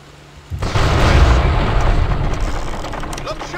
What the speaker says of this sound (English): Shoot them powder kegs to blast us a path.